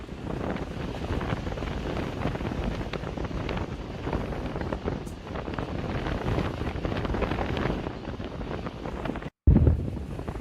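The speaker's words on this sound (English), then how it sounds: "Very windy." Strong wind buffets the microphone on a rocky, coral-strewn coastline in Aruba, a constant loud roar with surf-like rushing throughout, briefly cutting out near the end.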